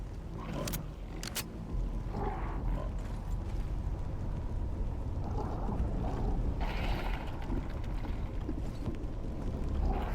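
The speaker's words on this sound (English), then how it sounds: "So the evac ship is coming in." A low, steady mechanical rumble of an evac ship approaching in the video game The Cycle: Frontier, with creaks and a few sharp clanks early on, constant and fairly loud.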